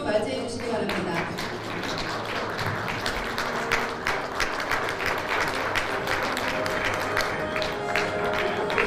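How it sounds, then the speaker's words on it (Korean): A standing audience at a dinner reception for Korean residents and company representatives in Beijing applauds as the National Assembly Speaker and spouse enter, with sustained, even clapping from a large crowd in a hall and voices mixed in. "모두 자리에서 일어나 큰 박수로 맞이해 주시기 바랍니다."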